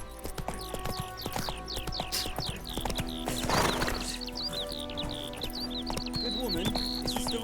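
Clip-clop of Roach the horse's hooves in The Witcher 3, a steady trotting rhythm under birdsong chirps and ambient game sounds, with a brief voice line and a whinny-like swell midway.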